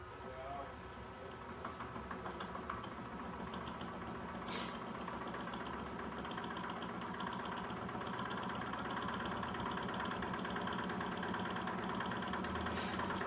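A Peter Lindemann-style solenoid electric motor runs from a 12-volt power supply, giving a steady mechanical buzzing drone with a fast pulsing rattle that carries on throughout, broken by a couple of brief sharper clicks.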